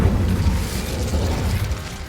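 An Incendio fire spell in Hogwarts Legacy bursts out as a deep, rumbling whoosh that stays loud and low for a couple of seconds.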